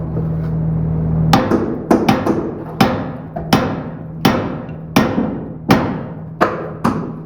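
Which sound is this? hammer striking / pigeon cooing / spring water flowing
hammer striking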